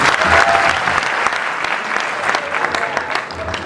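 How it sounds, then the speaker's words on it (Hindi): A crowd at an Indore coaching meetup bursts into loud, sustained applause, thick overlapping claps filling the room for a few seconds. "इसके लिए ताली बजाओ एक बार"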